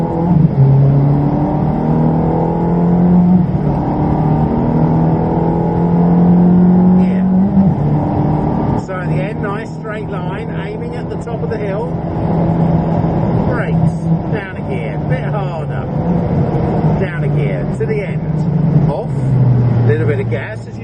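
A Ferrari on the Silverstone circuit accelerates hard, its engine note droning and climbing loud and close throughout, while someone talks over it.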